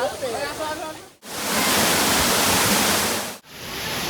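A mountain waterfall roars with a loud, steady, close rush of falling water, briefly cut off twice, with faint voices near the start.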